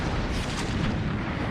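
Naval cannon fire from a ship in the game Empire: Total War, a dense, continuous low rumbling roar of booming broadside shots, loud and sustained throughout.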